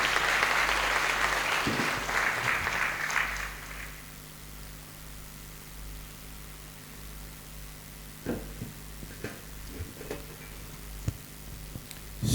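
Wedding guests applaud to welcome the pastor, with a burst of clapping in the opening seconds that fades out, leaving a quiet room with scattered taps and small knocks.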